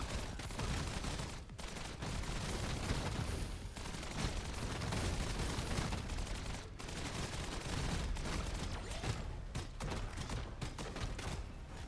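Gunfire rattles in the shooter Kiborg, with a dense, continuous barrage of shots and blasts that stays fairly loud and unbroken throughout.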